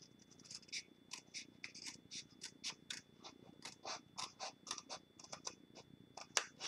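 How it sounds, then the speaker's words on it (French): Close, quiet snips of scissors cutting card stock for a 5 x 7 inch card box, a rapid series of short crisp cuts in an uneven rhythm with no talking. "On les coupe avec mes super ciseaux"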